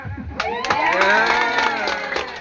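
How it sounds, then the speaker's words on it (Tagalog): An audience at a Friday church meeting claps, with scattered sharp hand claps rising over cheering voices and crowd noise that swell after a brief quiet start. "Masipag po sila magsipalakpak"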